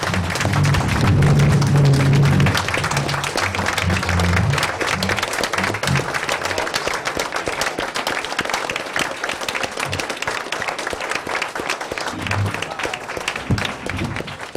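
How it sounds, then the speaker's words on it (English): A conference audience claps in a sustained, dense round of applause, loud and full for the whole stretch, with a few voices underneath near the start. "So could I ask for one more round of applause for folks working?"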